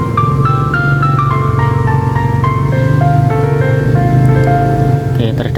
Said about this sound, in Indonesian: Kita dengarkan dulu untuk speaker seluruhnya, baik speaker atas ataupun bawah berbunyi, bunyinya seperti ini.